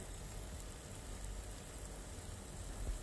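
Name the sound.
paneer pieces frying in hot oil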